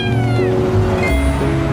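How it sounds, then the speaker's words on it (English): A black cat meows up close with drawn-out, wavering cries, loud and clear against a steady background hum. "When the cat meowed, something strange happened"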